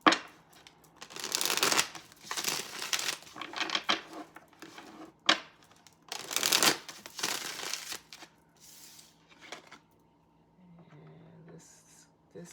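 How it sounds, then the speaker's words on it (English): A deck of tarot cards is handled and shuffled close by, with repeated papery riffling and slapping bursts. Quieter handling follows, and a faint voice is heard near the end. "I'm going to get all the cards out first"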